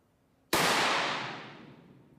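A single gunshot fired in a wound ballistics test with a reduced propellant load, a sharp close blast that rings out and decays over about a second and a half.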